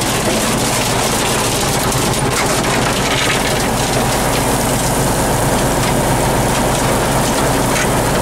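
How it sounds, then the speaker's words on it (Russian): Hail pounds loudly and densely on the metal cab of a T-150K tractor in a field, a constant hammering roar with the engine rumbling underneath. "Вы послушайте, град какой лупит."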